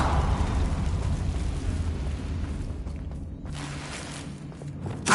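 Blast from a Confringo blasting spell, a broad rumbling boom that slowly fades into a low roar, followed by a fresh sharp burst right at the end.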